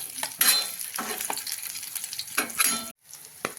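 Chopped onion sautés with spices in a pan for tawa paneer pulao, a close, steady sizzle broken by scraping stirs, with a brief drop to near silence before the frying returns.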